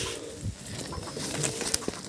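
Male pigeons coo softly amid a busy, noisy backdrop, with a few low throaty calls and faint rustling spread across a couple of seconds.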